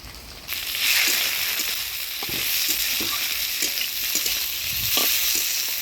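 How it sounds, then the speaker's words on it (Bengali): Chopped tomatoes hit a pan of browned onions for a goat meat curry, giving a steady, close frying sizzle with scattered scraping stir sounds, no voices. "দিয়ে দিব কাটে রাখা টমেটো।"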